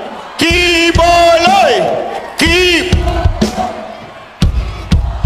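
A large rally crowd in the Philippines loudly chants the name Kibuloy in repeated bursts of shouting, with roaring pauses and scattered cries between the chants.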